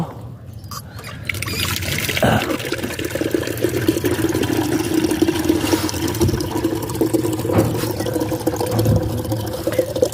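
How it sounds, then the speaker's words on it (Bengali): Water runs steadily into a container for about ten seconds, a continuous close splashing and gurgling rush with small bumps of handling, no voices. "তো এখন পানিটা আগে ভরে নেব।"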